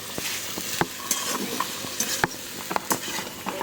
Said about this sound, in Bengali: গাজর ভাজা হবে